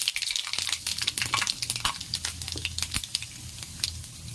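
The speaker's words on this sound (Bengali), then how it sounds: "কড়াইতে তেল গরম হয়ে গেছে, অ্যাড করে দেবো 5 ফোড়ন আর একটা শুকনো লঙ্কা" Panch phoron seeds and a dried red chili sizzle and crackle in hot oil in a wok, a busy, close spitting crackle with sharp pops and a low rumble of oil throughout.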